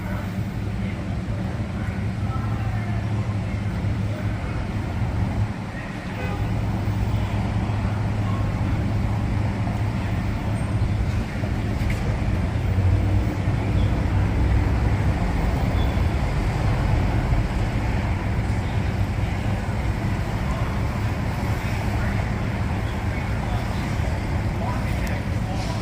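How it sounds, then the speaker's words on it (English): A tour boat passes on the San Antonio River Walk, a steady low motor drone under outdoor city noise that swells gently over the half minute. "Here comes one of the boats now."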